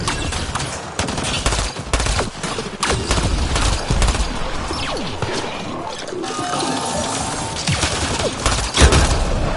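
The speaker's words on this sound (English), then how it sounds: "Shooting the device will destroy it." Gunfire in the video game Mass Effect Andromeda as a Kett device is shot, with dense, loud, sustained bursts of shots and crashes throughout.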